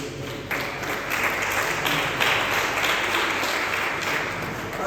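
A church congregation claps and cheers in acclamation of Jesus, a dense, steady wash of applause lasting throughout at close range with no speech over it.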